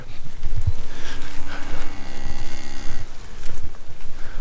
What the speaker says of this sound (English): Nice little cow.